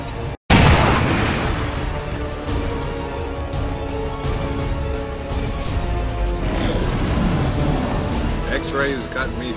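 A frag grenade bursts in the XCOM 2 video game: one sharp boom right after a brief silence, followed by rumbling debris and battle noise, with voices talking over it.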